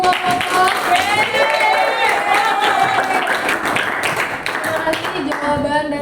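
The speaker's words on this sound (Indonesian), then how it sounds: "Tepuk tangan buat semua kelompok." A classroom of students claps together for all the groups, producing dense, steady applause throughout with voices mixed in.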